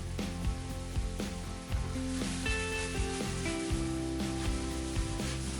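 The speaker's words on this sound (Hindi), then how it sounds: "इसको गरम ऑयल के ऊपर रखें और आराम से आप इसको पीछे की तरफ खींचते जाएं तो ये आराम से बाइट्स उतर के ऑयल में चली जाएंगी" Small Italian sweet bites dropped into hot oil, giving a steady soft sizzle and crackle throughout, with faint tonal sounds behind it and no talking.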